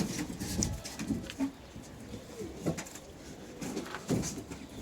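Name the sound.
young tumbler pigeons cooing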